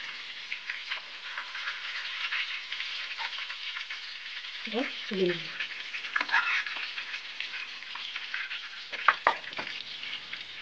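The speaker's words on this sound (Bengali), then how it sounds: "রান্নার জন্য প্রথমে শুকনো মরিচ দিলাম, এরপরে আদা কুচি, রসুন কুচি দিয়ে 1 মিনিট নাড়াচাড়া করব।" Dried chillies, chopped ginger and garlic fry in oil for chilli chicken, giving a steady moderate sizzle broken by occasional spatula scrapes and taps against the pan.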